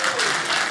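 A short burst of audience applause at a stand-up comedy special, dense crowd clapping that swells slightly across the brief moment.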